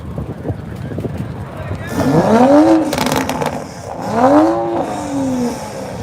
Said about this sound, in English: Look at that red Supra. Sounds pretty nice.